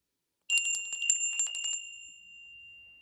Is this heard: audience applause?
no